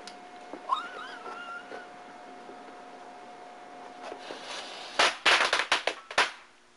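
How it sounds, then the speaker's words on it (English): A rapid string of sharp pops from firecrackers attached to a light bulb crackles loudly after a quiet stretch with a faint squeak, bangs bunched irregularly over about two seconds. "That's a light bulb and firecrackers attached to it."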